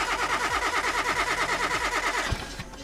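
A car engine turning over repeatedly during a compression test in the game Car Mechanic Simulator 2018, a steady rhythmic cranking churn with regular pulses, fairly loud and close, ending with a brief knock.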